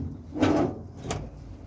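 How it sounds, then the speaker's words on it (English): A drawer on a scrap metal tool box slides out and back in, two soft rumbling scrapes close by, with no talking. "So yeah, all drawers comes out easy."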